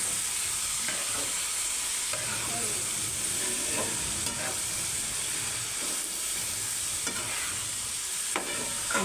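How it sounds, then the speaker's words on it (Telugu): Sliced ridge gourd stir-fried with paneer in a pan, a dense continuous sizzle with steamy hiss, broken by repeated soft scraping strokes of a spoon mixing the pieces, close and steady with no talk. "బీరకాయ వేసి మంచిగా కలుపుకోవాలి."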